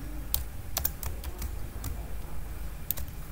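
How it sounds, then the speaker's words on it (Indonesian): Keys tapped on a computer keyboard while entering a Linux command on Ubuntu 20.04, a handful of irregular, close clicks over a steady low hum. "Coba kita ketikkan locate"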